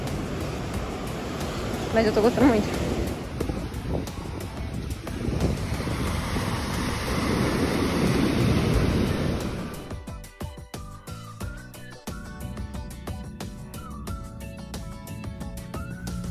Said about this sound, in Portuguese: Vocês estão sentindo o barulho do mar?